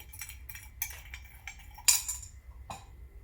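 Spoon stirring sugar and syrup in a cup before espresso, a few light clinks against the rim spaced unevenly, one sharper tap near the end, quiet with no talk.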